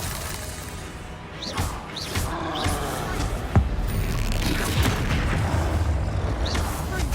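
Bombarda blasting spell explosions from the video game Hogwarts Legacy, with a sharp burst cutting through a dense wash of game music and swooshing spell effects, other spell sounds streaking by around it.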